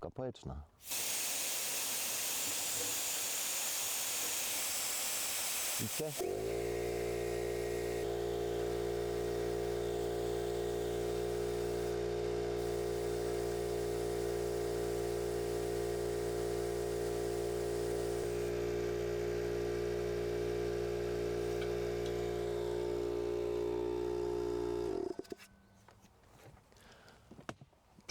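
A loud, steady mechanical drone with a strong low hum from an air compressor pumping air into a water-filled diaphragm tank runs without a break for about twenty seconds, after a few seconds of rushing hiss.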